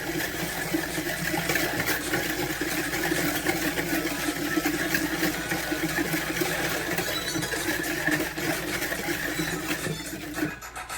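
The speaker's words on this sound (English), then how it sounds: "I'm going to whisk it up until it's fluffy." Melted butter and sugar whisked together in a bowl until fluffy, a steady, busy whirring of an electric mixer running continuously and fairly close for several seconds with no one talking.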